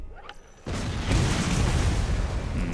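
In the shooter game Borderlands, a detonation sets off a sudden deep boom followed by a heavy rumbling roar that swells and persists for about two seconds.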